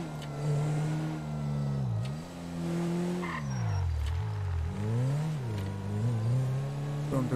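A car engine in a roleplay video game revs up and down continuously, its pitch rising and falling in waves, with brief tire squeal, loud and close throughout with no talk.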